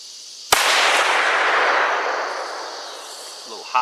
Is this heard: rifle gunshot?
yes